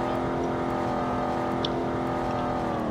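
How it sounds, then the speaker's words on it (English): Car engine in the Roblox Greenville video game holding a steady droning hum with harmonic tones while running through the gears, continuous and close, no talk over it. "I kind of upshift really like this, up downshift so I can get up to a higher RPM and higher speed"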